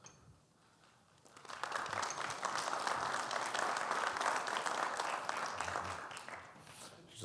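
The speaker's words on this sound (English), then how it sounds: "Pre-applause." A conference audience applauds as a presenter is welcomed for a security talk on attacking CI pipelines, steady broad clapping swelling after a quiet second and holding loud and dense until the end.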